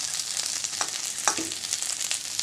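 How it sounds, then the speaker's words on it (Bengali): Boiled potatoes frying with spices for a Bengali singara filling, a soft continuous sizzle and hiss close by, with a few scraping stirs of a spatula against the pan. "এখন মশলা দিয়ে কষালেই হয়ে যাবে।"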